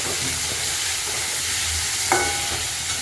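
Tomatoes tumble onto golden-brown fried onions in a pan for egg curry, raising a loud, continuous hiss and crackle with light stirring scrapes and one brief sharper clink partway through.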